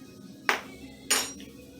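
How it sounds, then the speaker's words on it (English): A spoon stirring food in a cooking pot gives two sharp, bright metal clinks about half a second apart, close and fairly loud above a quiet kitchen background. "Let's stir it up."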